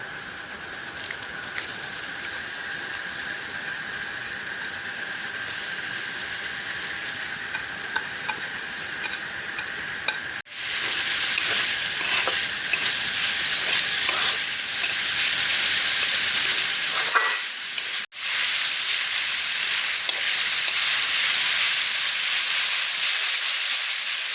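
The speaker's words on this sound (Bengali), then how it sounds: "এই তেলেই আমি পেঁয়াজগুলি ভেজে নেব।" Sliced onions fry in hot oil left over from frying chicken, giving a steady loud sizzle and hiss that goes on throughout with only brief breaks.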